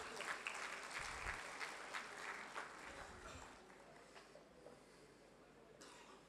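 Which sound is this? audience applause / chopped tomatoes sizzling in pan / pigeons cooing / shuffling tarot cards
audience applause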